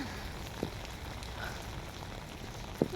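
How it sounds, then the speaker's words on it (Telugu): Rain falls in Kuwait as a steady, soft, close patter, with two brief sharper drip knocks and no voices. "వాన పడుతుంది పడుతుంది"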